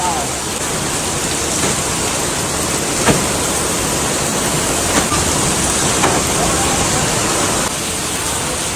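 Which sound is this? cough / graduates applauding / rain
rain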